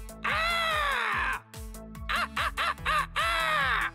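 A voice imitates a vulture's call with a series of loud, harsh, croaking caws, first one long cry, then several short choppy bursts and another long cry.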